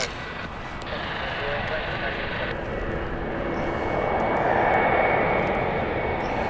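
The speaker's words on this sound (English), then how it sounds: "We've got Whiz inbound next. Is the Airbus A321 Neo from Malaga." A Wizz Air UK Airbus A321neo airliner arriving from Malaga gives a steady, broad jet roar that swells slightly as it nears, a sustained engine rush with no breaks.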